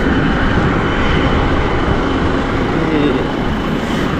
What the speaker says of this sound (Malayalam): ഇതാണ് ഉസ്ബെക്ക് എയർലൈൻസിൻ്റെ വലിയ ഫ്ലൈറ്റ്.